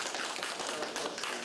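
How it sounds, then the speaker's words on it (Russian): Residents applaud an appeal court decision, a short, dense burst of many hands clapping at moderate loudness. "Решение апелляционного суда жители встретили аплодисментами."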